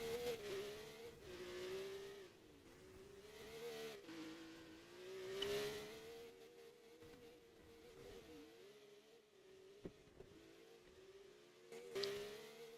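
A race car engine in a racing video game at the Australian Grand Prix holds a steady, buzzing high-revving drone that rises and dips through gear changes and corners, with no talk.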